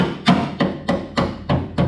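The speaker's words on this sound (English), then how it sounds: "I just put the air chisel to it" An air chisel hammers at a spot-welded body panel on a 1966 Ford Bronco project car, giving six loud, evenly spaced metallic impacts about a third of a second apart, close up and with no speech.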